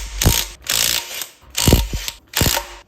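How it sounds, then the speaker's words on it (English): Ratchet wrench loosening the eight bolts holding the adapter plate to a first-generation Cummins engine block, heard as four close bursts of rapid clicking separated by short pauses. "we just need to remove the 8 bolts that hold the adapter onto the block"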